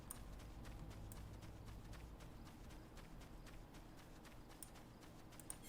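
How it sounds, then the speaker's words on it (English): Running footsteps of a character in Final Fantasy 14, a quick steady patter of steps over continuous ambient background with flowing water, fairly close and moderately loud throughout. "The footsteps."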